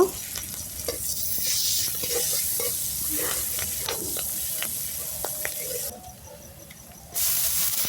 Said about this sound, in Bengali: পেঁয়াজ লঙ্কা দিয়ে দেব দিয়ে ভালো করে ভেজে নেব